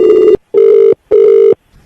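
A telephone rings loudly during a prank call, with three evenly spaced ring bursts separated by short silences and no voices.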